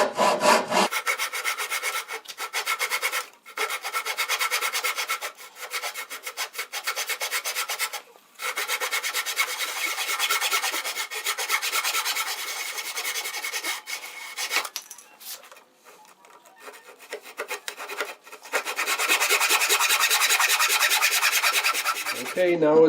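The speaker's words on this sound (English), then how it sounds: "I'm just going to hack away some of the big chunks of waste wood" Rapid rasping strokes hack big chunks of waste wood off a guitar neck heel, close and steady in bursts separated by short pauses.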